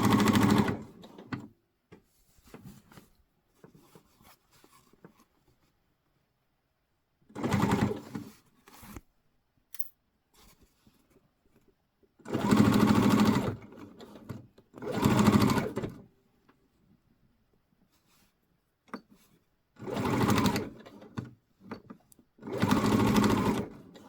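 Bursts of a sewing machine top stitching a puffer jacket, several loud runs of rapid mechanical stitching separated by quiet pauses, close by with no talk.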